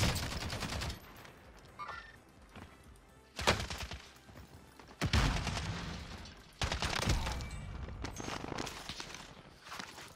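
Glock pistol fire in the Warzone video game: loud sharp shots in bursts and rapid strings, several distinct volleys spread through the stretch, with no talking.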